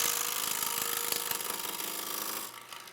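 A bevel-supported woodturning tool cutting a thin wooden bowl on a lathe, giving a loud, continuous rushing scrape close up that eases off and quietens near the end.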